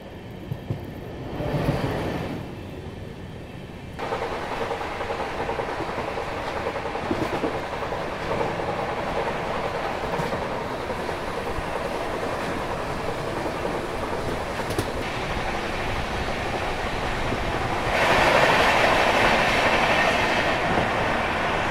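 The Chennai Rajdhani Express runs along the tracks, heard from inside a first AC coach. A steady, loud rumble of wheels on rail continues throughout with faint rhythmic clatter, growing a little louder and harsher near the end, and no voices.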